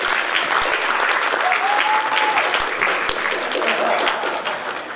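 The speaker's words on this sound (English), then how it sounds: "have a round of applause for him" A live audience in Jaipur gives sustained, dense applause for a fashion designer being introduced on stage, steady and loud throughout with a few faint voices mixed in.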